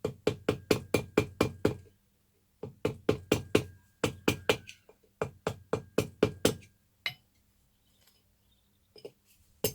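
A metal punch is bashed with a hammer to flatten metal on a WW2 Zundapp KS600 motorcycle engine, giving rapid bursts of sharp, close metallic knocks in groups of six to eight, then a few faint taps after a pause.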